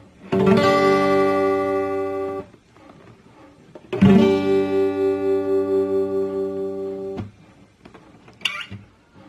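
Two sustained minor guitar chords ring out one after another, each strummed once and left to decay, with a short quiet gap between them and a faint click at the end.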